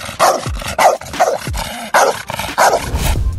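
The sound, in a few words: large black dog barking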